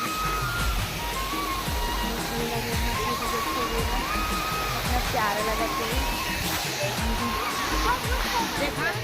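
A waterfall at Purkhauti Muktangan in Chhattisgarh pours in a continuous, loud, broadband rush that fills the whole stretch, with people talking over it.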